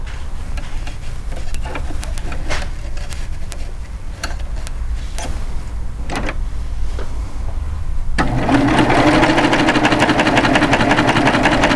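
A serger with a belt loop binder attachment hums as fabric feeds through, with ticking and clicking from the handling in the first part, then a louder, steadier run of the machine close by near the end.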